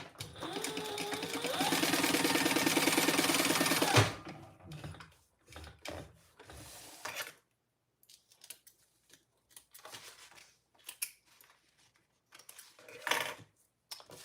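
A sewing machine stitching across the bottom of a fabric wallet runs steadily for about four seconds, then falls silent, followed by scattered clicks and handling noises of the fabric and machine.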